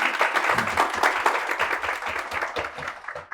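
Students in a classroom lecture burst into applause, close, lively clapping lasting about three seconds before it tapers off.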